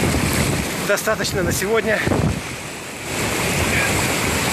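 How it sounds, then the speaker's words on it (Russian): Ocean waves splash and wash around in strong wind near a December outdoor swim, with a brief spoken remark over the rushing surf and heavy wind buffeting. "О, окатило волной весь мой телефон."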